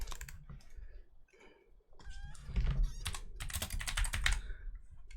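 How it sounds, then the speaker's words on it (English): Keyboard typing during a Lord of the Rings Online session, with bursts of fast, close clicking keystrokes, a brief lull, then dense rapid typing over faint game sounds. "That's not where I need to be typing."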